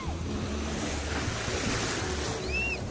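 Sea waves wash steadily onto a beach at Punta Cana, a continuous surf roar with wind buffeting the microphone and a brief faint bird-like chirp near the end.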